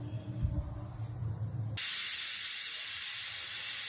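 A pressure cooker holding mutton curry with fenugreek leaves whistles suddenly, a loud steady hiss of escaping steam starting midway and continuing to the end after a quieter stretch of low kitchen noise.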